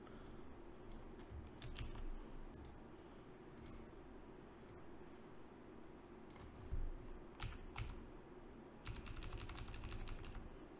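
Keystrokes on a computer keyboard tap out in scattered clusters, with a faster run of clicks near the end, over a steady low room hum while working in a game engine prototype.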